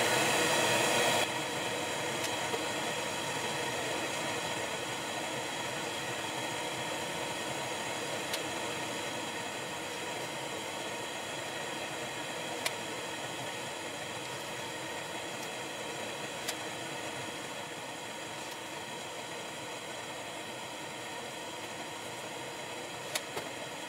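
A pink noise test signal plays through a sound system, a steady broadband hiss holding a constant level throughout, with occasional faint clicks and no voices.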